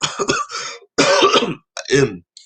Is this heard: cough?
yes